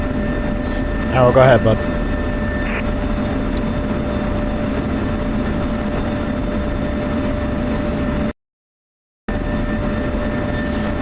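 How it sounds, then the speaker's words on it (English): An F-16 fighter jet taxis toward runway 5 with a loud, steady engine drone and a constant whine, while a person speaks briefly over it and the sound cuts out for a moment near the end. "single ship F-16 taxiing from space 38 to runway 5"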